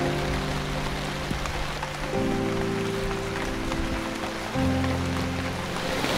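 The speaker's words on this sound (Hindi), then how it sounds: "गाइस अभी देखो बरसात कितनी तेज हो गई है" Heavy rain pouring down during a cyclone outdoors, a dense, steady roar of drops close by, with droning tones shifting underneath and no voices.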